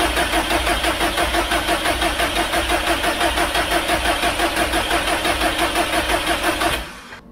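Subaru STI EJ25 engine cranking on the starter without firing to prime oil pressure, a loud, steady rhythmic whirring chug that continues evenly for several seconds and then stops abruptly.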